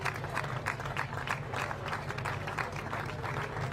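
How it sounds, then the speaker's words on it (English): A final round of applause rises from spectators at a para triathlon podium ceremony in Swansea, steady rhythmic clapping from a crowd with a low hum underneath, sustained throughout. "one final round of applause, please, for your men's PTS 5 podium"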